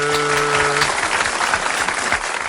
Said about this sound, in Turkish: Alkışlıyoruz Zümra'yı